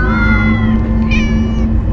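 Several cats meow in the Minecraft: Story Mode game, a sustained tonal wail followed by a higher, shorter meow, loud and close over a steady low hum, with no talking.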